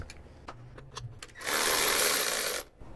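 A ratchet with a 10 mm deep socket works Jeep Cherokee XJ 4.0L fuel injector bolts, giving a few faint clicks followed by one sustained burst of rapid ratcheting up close.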